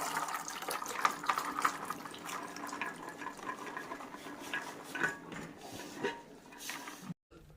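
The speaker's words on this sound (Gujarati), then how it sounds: "હવે આની અંદર નિતારી નાખી દઈએ આપણે પાણી નીકળી જાય જાળીમાં નાખી દઉં" Salted water drains from soaked peanuts poured into a mesh strainer. Close trickling and splashing come with clinks of a metal vessel, then the sound stops abruptly near the end.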